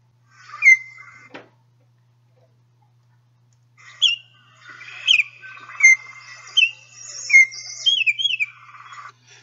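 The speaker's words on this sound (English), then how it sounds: "listen to a variety of different Baltimore Oriole vocalizations so to get familiar with what they sound like" A Baltimore Oriole gives a short call, then a sequence of clear whistled notes and chattering phrases, close and distinct against a quiet background, with a sharp click in between.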